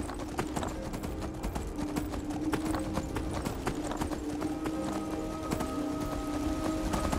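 A stolen horse gallops in Skyrim, its hooves pounding out a steady, rapid clip-clop that runs throughout, close and loud over a low ambient game drone.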